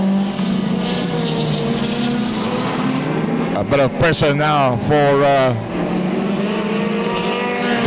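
Modified race cars roar steadily around a track at a Night of Champions event, engines droning loud and continuous with a burst of nearby passing noise midway, under a commentator's voice.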